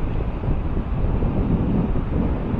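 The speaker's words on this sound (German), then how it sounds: "der Wind frischt auf und da vorne ist richtiger Sandsturm" Strong gusty wind on the beach at Maspalomas, Gran Canaria buffets the microphone with a loud, low roaring rumble that stays constant throughout, with no voices.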